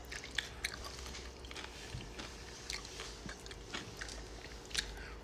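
Someone bites and chews homemade cooked pickle close to the microphone, giving repeated soft crunches and wet chewing clicks over a quiet background hum, with no talk.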